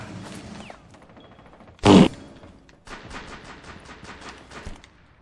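Gunfire in Rainbow Six Siege during a basement fight: one loud, close burst of shots, then a sustained rattle of quieter automatic fire.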